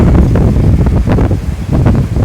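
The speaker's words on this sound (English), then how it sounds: "It is sunny, windy" Gusty wind on an uphill trek to Swamimalai hill in Yelagiri, India, buffets the microphone with loud, low rumbling bursts that rise and fall unevenly, and no one speaks.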